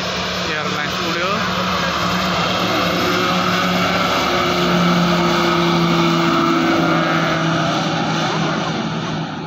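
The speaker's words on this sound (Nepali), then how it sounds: "उड्न आँट्यो अब समीर एयरलाइन्स उड्यो।" A Sameer Airlines propeller plane taking off at Manthali airport in Ramechhap, Nepal, its engines roaring loud and steady with a buzzing propeller tone that swells slightly midway.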